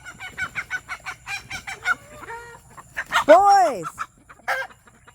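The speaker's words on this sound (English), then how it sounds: "Too many roosters in the hen house." Several roosters crow and cluck close by in a hen house, loud calls in overlapping bursts, with a person calling out once.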